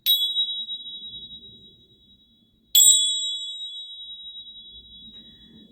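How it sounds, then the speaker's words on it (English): Two struck bells ring out clearly, each a bright close ding that hangs and slowly fades, the second about three seconds after the first, with no talking. "I'll ring the bells for you"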